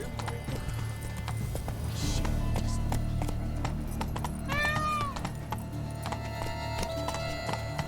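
Horse hooves clip-clop steadily at a trot in The Witcher 3, a continuous rhythmic patter of steps layered over game ambience and music, with a brief tonal chime midway.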